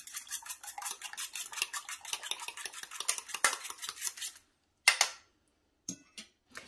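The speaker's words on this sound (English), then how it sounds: "We're gonna whisk these in the bowl here." Eggs whisked briskly in a bowl, a fast steady rhythm of metal tapping and scraping close up for several seconds, then stopping, followed by a few isolated clinks.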